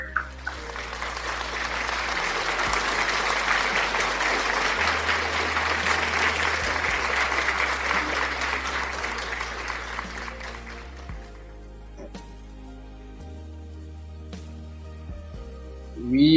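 A church congregation applauds in sustained, dense clapping for about eleven seconds, then the applause thins out into a quieter room with scattered sounds.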